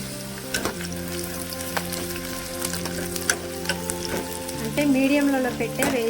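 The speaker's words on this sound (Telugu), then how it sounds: "నూనె వేడయిందండి. కొంచెం కొంచెంగా కాకరకాయలు వేసుకుందాం." Pieces of bitter gourd dropped a little at a time into hot oil set up a steady, close frying crackle, with a sustained tonal hum running underneath and a few sharper pops.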